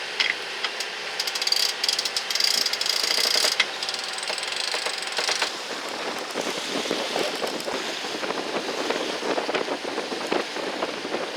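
Sailboat winch ratcheting as the mainsail is hoisted face to wind, a rapid clicking run with busy mechanical rattle for several seconds, then a steadier rushing wash of wind and water carries on.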